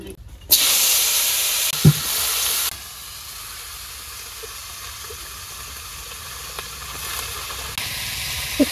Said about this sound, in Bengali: সুন্দর করে লাড়াচাড়া করে ভাজতে নেই।